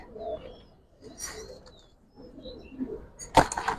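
Giribaz pigeons in a loft give soft, low coos and faint chirps, then a single sharp, loud click or flap near the end, all close by.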